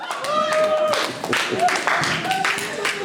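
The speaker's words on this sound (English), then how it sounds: "Give him a big round of applause." Audience applause at a hypnosis show: a burst of close, mixed hand clapping from a small crowd, lasting a few seconds, with whoops and voices rising over it.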